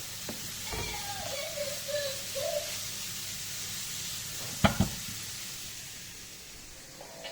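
Carrots sauté in a pan, giving a soft, steady sizzle with light stirring, a couple of sharp utensil clicks near the middle and faint voice-like sounds early on, all fairly quiet.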